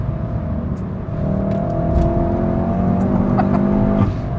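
A 2016 VW Golf GTI Clubsport S driven hard through corners: a steady, loud engine drone with a rising whine from inside the cabin, building slightly as the car pulls, heard continuously without talk.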